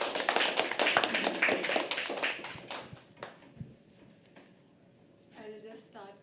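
Audience applause and scattered hand taps at a live poetry open mic as the poet walks on stage, dense at first and thinning out, with voices chattering over it before a brief pause.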